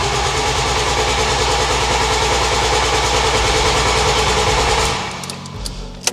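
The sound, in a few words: 200 bhp Ford Fusion ST engine cranking and firing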